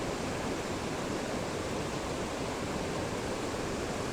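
The Baptism River waterfall at Tettegouche roars as a steady, even rush of falling water, dense and continuous throughout, with no voices.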